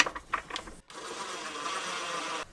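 A power driver sets screws into pre-drilled holes while van upper cabinets are installed, giving a short choppy whir, a brief gap, then a longer steady buzzing run, loud and close.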